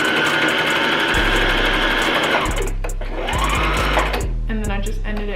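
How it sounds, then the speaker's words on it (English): A sewing machine stitches a one-sleeve bodycon dress in short, close runs: a steady whirring burst, then several brief stop-start bursts for back stitching, with someone speaking between them. "And now I'm just gonna sew"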